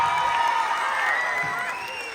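Audience at a charity concert in Maralik clapping and cheering steadily for a singer, a dense sustained wash of applause with whoops that eases slightly toward the end, a voice briefly audible over it.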